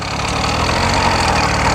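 A small petrol engine on a motorised bicycle runs steadily nearby, a loud, even buzzing drone with a low rumbling pulse and no change in pace over the short stretch.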